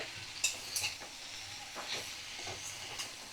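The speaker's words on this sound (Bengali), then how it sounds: "ফ্লেমটাকে এবার একদম লো ফ্লেমে করে দিলাম, কারণ ভালো করে এবার কষিয়ে নিতে হবে" Sliced bottle gourd sautéing in a pan over a low flame, with a soft steady sizzle and a few scattered clinks of a spatula stirring, close by and unhurried, with no talking.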